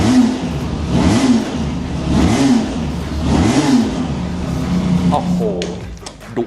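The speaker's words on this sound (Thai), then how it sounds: "499 cc โอ้โห ถือว่าไม่ธรรมดานะ เราลองฟังเสียงกันดีกว่า โอ้โห ซุ้มเสียง 2 สูบที่คล้าย 4 สูบมาก ๆ" A Benelli TRK502X with a 499 cc two-cylinder engine revs up and down in three rising, falling sweeps close by, a smooth throaty drone that settles toward idle at the end.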